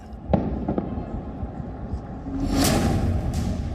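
Sharp blasts crack out early, then a heavier rumbling boom from an airstrike in Gaza swells and lingers, loud and distant-sounding, with faint voices underneath.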